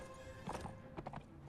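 Cavalry horses in the video game Between Empires move with quiet clip-clopping hooves and brief whinnies, faint and set against a low game background hum.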